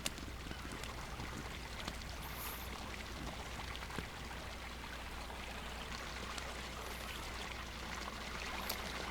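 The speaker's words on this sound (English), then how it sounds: "Also a nice little waterfall going on here." A small waterfall spills into a little stream in a Second Life scene, a constant soft splashing and trickling wash that stays even and fairly faint throughout, with no speech.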